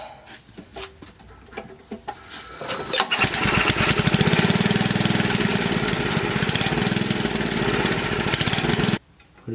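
A small mini bike engine with a carburetor problem is pull-started and catches after a few tugs, then runs at a loud, steady, slightly uneven clatter up close before cutting out abruptly near the end.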